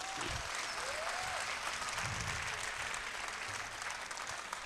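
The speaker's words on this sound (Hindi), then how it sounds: "एक बार हमारी स्पेस एजेंसी इसरो के लिए जोरदार तालियां बजाइए।" A crowd at a Hindi comic poetry gathering claps loudly in a dense, continuous burst for the space agency ISRO. The applause is heavy and even throughout, with a faint voice briefly audible underneath.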